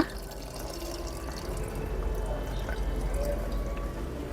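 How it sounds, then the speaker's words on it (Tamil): Tamarind water is poured into a fish curry cooking over a village wood fire, giving a faint, soft trickle and drip over a low background rumble, with no talk. "இப்போ இது நல்லா வதங்கின உடனே கொஞ்சமாக புளி தண்ணி ஊற்றிக்கோங்க"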